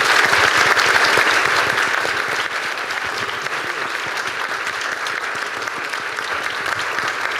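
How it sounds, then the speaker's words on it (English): Sustained audience applause for a panel at a science and global health equity event, a thick, steady roar of many hands that is loudest at first, then settles to a constant level. "Please give them all a round of applause"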